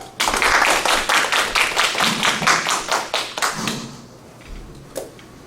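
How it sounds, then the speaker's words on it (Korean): Audience members at a workshop clap in a brisk burst of applause that swells quickly, holds for a few seconds, then thins out into scattered claps and a final thud. "큰 박수 해주시죠."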